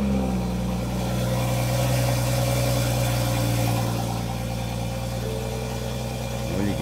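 A Toyota Supra's engine runs with a steady mid-pitched idle hum and a firm low rumble, loud and close, holding even for several seconds with a slight rise in revs midway and no talk over it.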